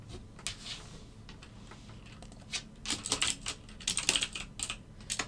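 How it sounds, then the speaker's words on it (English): Rapid typing on a computer keyboard during a live algorithmic trading session, a soft steady patter of key clicks that grows denser and louder in bursts toward the end, with no talk. "I haven't been typing like this whole stream."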